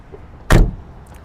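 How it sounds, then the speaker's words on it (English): A single solid thud of a 1967 Chevrolet Camaro door being shut close by, short and loud against quiet surroundings. "Shut the door here."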